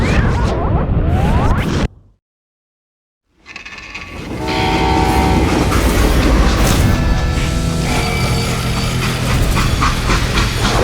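A freight train in the video game Call of Juarez: Gunslinger screeches and rumbles loudly as it is brought to a stop, with metallic grinding and a horn-like tone after a brief silence.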